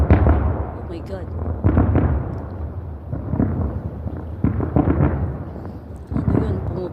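Fireworks bursting over Olaya Road at 2 a.m., a series of deep, rumbling booms rolling in at irregular intervals, loud and continuous, with excited voices talking over the blasts.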